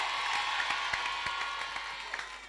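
A studio audience claps for the K-pop group Seventeen on an Indonesian TV variety show, a moderately loud, steady wash of applause with scattered sharper claps and a faint hint of cheering, tapering slightly toward the end.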